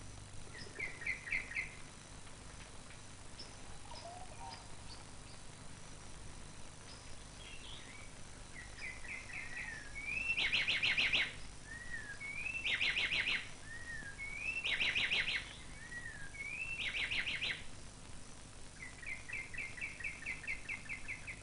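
Birds on the Roraima plateau give short, repeated high chirping phrases, spaced every couple of seconds and rising into a brighter burst of calls, faint against a quiet outdoor background.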